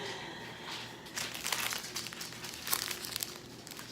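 A package is torn and opened, with crinkling plastic and crisp rustling bursts, close by, over a faint low hum.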